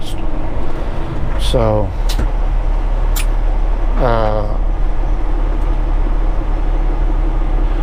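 A 2018 Peterbilt 389 truck with an 18-speed transmission drones steadily under load, a constant low engine rumble heard from inside the cab while someone talks over it.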